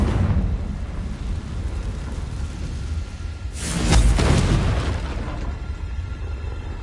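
A Confringo spell explosion in the video game Hogwarts Legacy, a single booming burst with a whooshing rise that swells over steady background rumble, then fades.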